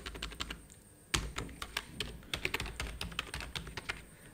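Rapid typing on a computer keyboard, with quick close clicks coming in uneven bursts and no talk.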